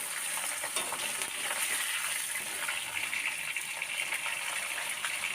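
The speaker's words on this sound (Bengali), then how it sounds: "আমার মাছের মাথা এক পিঠ লাল করে ভাজা হয়ে গেছে। আমি আর এক পিঠ উল্টিয়ে দেব।" Rohu fish head fries in a pan of oil, giving a dense, continuous sizzling hiss at an even level throughout, close by and moderately quiet, with no talking.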